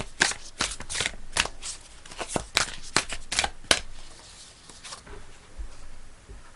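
Close, crisp riffling and slapping of tarot cards being shuffled in quick repeated bursts, then a softer shuffle tapering off.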